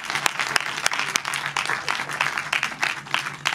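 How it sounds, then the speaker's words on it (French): Audience applause at a raffle drawing, steady dense clapping with a few sharper claps standing out, sustained for a few seconds at moderate loudness. "Bah, on applaudit quand même"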